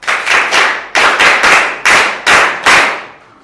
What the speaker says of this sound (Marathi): सगळे टाळ्या वाजवतात.